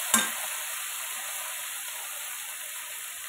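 Chopped tomatoes hit a hot pan for an eggplant bharta, a soft sizzle and steady frying hiss that continues, with a brief clatter at the start as they are added and stirred.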